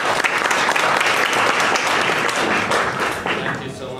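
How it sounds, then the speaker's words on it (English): A keynote audience gives loud, continuous applause, a close and dense patter of many hands that stays strong for a few seconds, then thins slightly toward the end. "let's give an applause to Elias"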